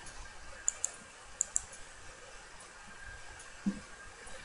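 A few sharp, faint computer mouse clicks tick in pairs against a quiet hiss, followed by a soft low thump.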